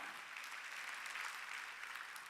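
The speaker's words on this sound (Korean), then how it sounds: "박수야." A church congregation applauds during a Korean Sunday worship service, a steady, dense wash of many hands clapping together, distant and fairly soft, continuing evenly with no voices on top.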